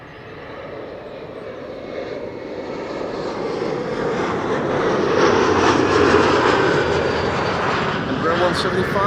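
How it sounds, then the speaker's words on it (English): An Embraer 175 airliner arrives at Amsterdam Schiphol Airport, its engine roar swelling steadily louder as it nears and holding strong to the end. "Flight 263 arriving from Warsaw."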